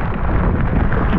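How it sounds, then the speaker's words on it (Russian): Heavy wind buffets the microphone with a rough, constant roar, and a patter of rain and hail mixed underneath, close and loud throughout, on an autumn fishing trip in Karelia. "Дождь, град, ветер."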